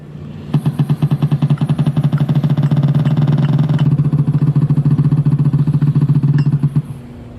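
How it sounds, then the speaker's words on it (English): A deep, throaty Harley-Davidson V-twin motorcycle engine idles close by in a steady, loping rhythm for several seconds, then cuts off. "how can you not love the deep, throaty sound of a Harley-Davidson?"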